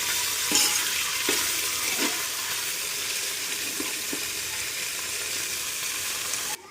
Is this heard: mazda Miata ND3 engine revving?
no